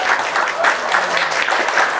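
An audience claps steadily for a guest introduced at a creative-economy talk event, a dense burst of applause, loud and close, with no voices over it.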